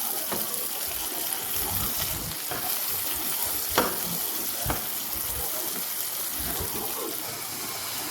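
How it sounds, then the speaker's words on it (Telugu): Onions, tomatoes and curry leaves fry in butter in a pan during noodle preparation, a constant sizzle broken by a few sharp utensil taps and stirring scrapes, close and moderately loud. "ఇప్పుడు టమాటాలు వేగిన తర్వాత కరివేపాకు కూడా వేసి వేయించుకోవాలి"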